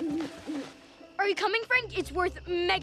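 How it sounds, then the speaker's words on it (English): An owl hoots at night outdoors, its low repeated hoots heard mostly at the start, then mixed under people talking. "That was an owl."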